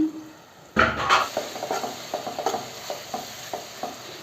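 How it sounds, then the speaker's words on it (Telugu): Rhythmic scraping and clinking of a spoon stirring onions frying in a pan for egg curry, with a soft sizzle underneath and steady repeated strokes. "ఒకసారి మిక్స్ చేసుకుందాం"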